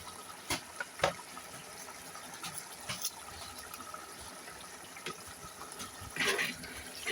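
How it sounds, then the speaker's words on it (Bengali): Water poured into a pan of frying spices for a mutton curry, giving a faint, intermittent splashing gush with a few sharp taps and a brief louder pour near the end. "একটু পানি দিয়ে দিচ্ছি যাতে নিচে না লেগে যায়।"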